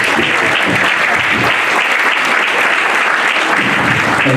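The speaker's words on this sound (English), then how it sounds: "Can I have a round of applause?" Loud, dense audience applause at a hip hop dance awards ceremony in South Africa, a sustained crowd of many hands clapping evenly throughout with no pauses.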